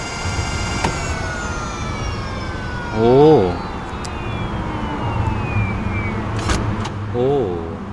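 A 2019 Daelim Zappy electric scooter's motor whines as it rolls, several thin tones sliding slowly downward in pitch, with two short vocal exclamations over the hum.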